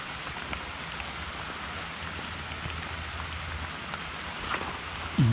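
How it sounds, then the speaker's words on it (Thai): Heavy rain falls steadily in a forest during mushroom gathering, a dense, even hiss of drops on leaves and ground, close and constant, with a brief low knock near the end. "นี่ฝนตกแห้งนะครับ"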